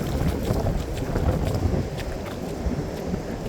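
Strong onshore wind at a warm beach on Mexico's coast near Rosarito roars steadily into the microphone as broadband buffeting gusts, loud and continuous, with faint surf beneath and no voices.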